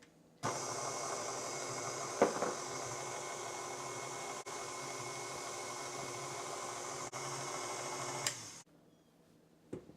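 An electric mixer beating sour cream pound cake batter, a steady close motor whir running for about eight seconds with a brief clatter early on, then stopping.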